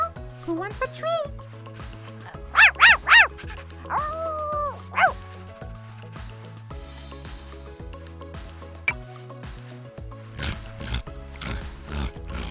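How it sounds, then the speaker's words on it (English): Cartoon dog barks from a Sesame Street video game: a quick run of three sharp yips, then a whining bark, over bouncy background music with spoken voices between. "Sit, Tango. Sit. Good dog"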